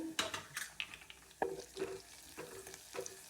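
Green chillies and garlic sautéing in a pan for Khandeshi kadhi, a quiet sizzle broken by a few light stirring scrapes and clinks, close up, with no talking.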